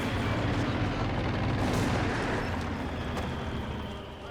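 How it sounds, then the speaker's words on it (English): Mortar rounds strike an IS-2 heavy tank in Company of Heroes 2, a dense, loud rumble of artillery blasts and gunfire that swells in the middle and slowly fades toward the end, with no voices. "Mortar connects onto the IS-2."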